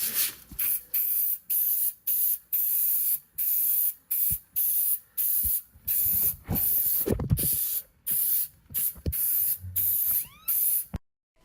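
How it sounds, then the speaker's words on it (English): Brake cleaner sprayed onto the rear wheel hub of a 2015-or-later Subaru WRX, a series of about fifteen sharp, close aerosol hisses in quick bursts with short gaps, plus a few faint clanks of handling in between. "using brake cleaner, we'll clean the surface of the hub"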